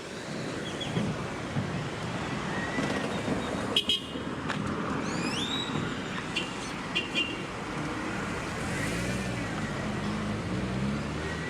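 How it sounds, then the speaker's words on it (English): Car horns toot in short bursts amid a rushing roadway and wind noise near Playa Brasilito, Costa Rica, no voices. "Everybody's honking."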